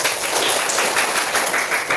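Students in a classroom mathematics lesson clap together: a steady burst of close, lively applause that stays loud from start to finish.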